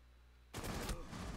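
Gunfire in the video game Rainbow Six Siege, a sudden loud burst of rapid shots cutting in after near-silence and ringing on for under a second.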